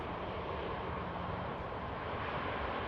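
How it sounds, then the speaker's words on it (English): An EasyJet airliner touches down at Manchester Airport, heard as a distant, faint broadband jet rumble and roar that holds steady throughout. "EasyJet touches down."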